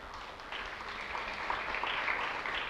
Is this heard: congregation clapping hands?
yes